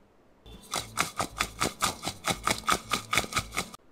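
Crisp, crunchy fried french fries are handled or bitten in a quick series of about a dozen sharp crackling crunches, close up, with no talk.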